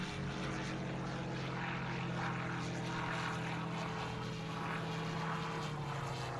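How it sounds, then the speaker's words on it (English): Enemy propeller planes in the Silent Hunter III submarine game approach with a steady, loud droning engine hum that holds throughout without a break. "we've got two planes turning up now"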